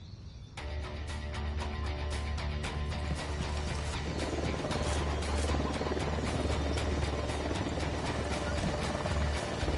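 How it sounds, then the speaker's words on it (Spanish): A military helicopter approaches in the video game Ghost Recon Wildlands, a dense, loud rotor thump and engine roar that swells in quickly and stays continuous, mixed with rumbling game ambience. "¡Se acerca un helicóptero al suelo!"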